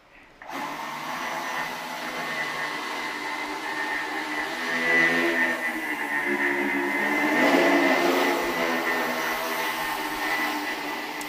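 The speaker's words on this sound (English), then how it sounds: "When you put them together, they behave like one high-performance quadricopter." A high-performance quadricopter built from joined two-propeller flying machines hovers with a steady whining buzz of spinning rotors that swells slightly in loudness, close and continuous without speech.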